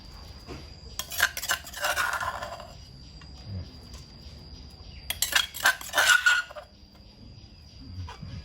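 Pork is mixed by hand in a bowl with pounded lemongrass, garlic and kaffir lime leaves for a Phu Thai pork and pla ra dish, heard as two bursts of close wet squishing and clinking separated by quieter stretches.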